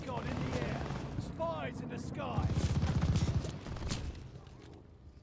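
Unsilenced Automaton Versailles gun fires in a game, a rapid rattling burst of shots heard under swirling effects and background voices.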